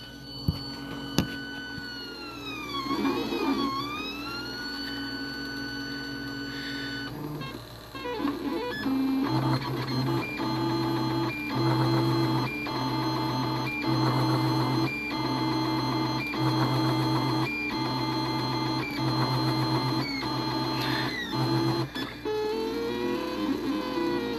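Steady mechanical whirring with pitched stepper-motor tones that sweep and shift, a 3D printer running continuously and fairly close, with no talking.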